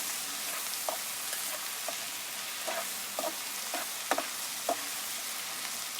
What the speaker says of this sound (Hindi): इसको इतना फ्राई करना है कि जब तक इसका कलर चेंज ना हो जाए, लाइटली ब्राउन, क्रिस्पी सा